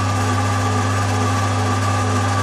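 A permanent magnet alternator runs at about 960 rpm while lighting lamps, giving a loud, steady mechanical hum with strong low tonal bands and broadband whine, constant and unbroken throughout with no talk.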